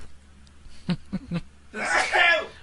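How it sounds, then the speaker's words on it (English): A man sneezes once: a few short catching breaths build up, then a single loud, breathy burst follows close to the microphone. "I'm going to sneeze right now"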